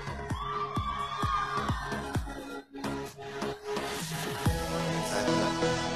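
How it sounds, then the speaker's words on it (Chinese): A live studio audience at a celebrity stream cheers and shouts, a busy crowd roar layered with sharp claps, a sustained tone, and scattered whoops that stay dense throughout. "欢呼声。"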